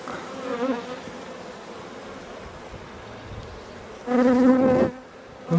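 Honeybees buzz around an open hive during an inspection, a continuous droning hum with a louder, nearer buzzing pass toward the end.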